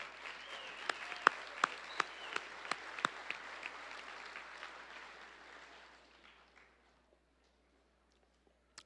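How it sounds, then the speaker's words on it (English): A general council crowd gives a sustained round of applause that stays fairly soft and distant, with a few sharper claps near the start, then fades out into silence after about six seconds. "can we give Jess and Ed a big round of applause?"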